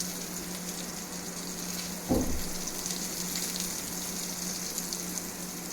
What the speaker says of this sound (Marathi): हे वन साईड आता फ्राय झाले असतील